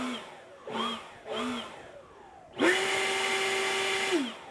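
An Ego 56V commercial string trimmer whirs up to full trigger with a loud, steady, high motor whine that holds for about two seconds before winding down, preceded by a few short softer bursts.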